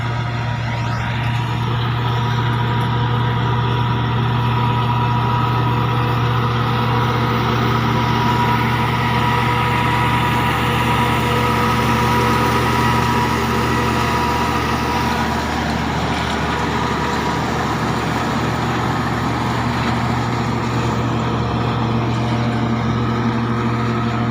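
A Millat 385 tractor's heavy diesel engine drones steadily under strain powering a chopper machine, a constant loud rumble with a low hum and no pauses.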